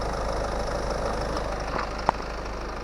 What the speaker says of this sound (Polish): pracuje równo silnik